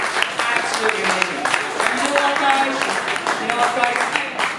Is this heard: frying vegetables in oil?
no